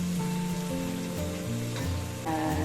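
Tomatoes and freshly shelled green peas sauté in a pan, giving a soft, steady sizzle with faint stirring, close and continuous.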